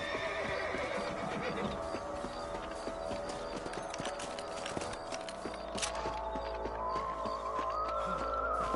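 Horse hooves clip-clop steadily while a horse whinnies in Red Dead, with game-style ambience and a rising tone near the end.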